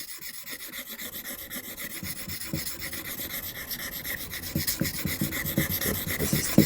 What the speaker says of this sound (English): So we've got to go back now to the finer stone and polish it.